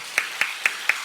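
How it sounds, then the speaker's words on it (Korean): Four slow, evenly spaced claps ring out at a church Sunday service, each a crisp, fairly close snap with quiet gaps between them. "할렐루야, 우리 박수로."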